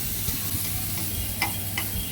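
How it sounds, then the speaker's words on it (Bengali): Onion and garlic frying in oil with a soft, steady sizzle, close by, broken by a few light stirring clicks. "পেঁয়াজ রসুন এই তিনটাকে আমরা আগে একটু ভেজে নিচ্ছি"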